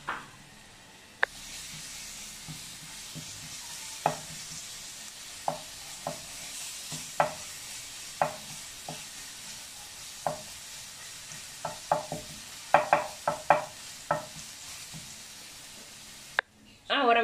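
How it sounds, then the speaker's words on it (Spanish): A spoonful of garlic frying slowly in oil makes a soft, low sizzle, with sharp clicks and taps of a utensil stirring it at irregular moments. A brief louder burst comes near the end. "agregamos la cucharadita de ajo. Vamos a dejar que se sofría despacito"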